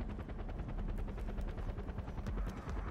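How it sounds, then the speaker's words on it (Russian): Steady rapid rotor chop of a helicopter in the video game Far Cry 4 with dense low rumble, sharp gunfire bursts mixed in throughout, loud and continuous. "По-моему, я слышу вертолет."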